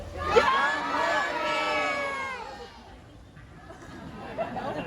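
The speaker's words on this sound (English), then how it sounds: "in your loudest voice as possible, we need to yell out, "Jump, Murphy."" Zoo audience, many of them children, at a seal show at Taronga Zoo shouting a phrase together in a loud ragged chorus, then trailing off into scattered murmurs and chatter.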